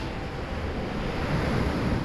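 Sea waves wash along the Santorini shore in a breezy seaside setting, a steady moderate surf hiss with soft wind rumble, continuous and without voices.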